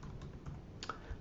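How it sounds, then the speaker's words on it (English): A few quick, soft keystrokes on a computer keyboard while a function name is entered in a PostgreSQL command-line session, close and fairly quiet. "and typing the name of the function"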